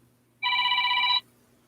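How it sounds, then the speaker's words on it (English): Mobile phone ringtone sounding once indoors, a single bright electronic ring burst lasting under a second, clear and close over faint background hum, with no talk. "of course my phone's ringing."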